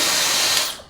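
A Dyson Supersonic hair dryer blows close up with a loud, hissing rush of air that fades out over the final moment.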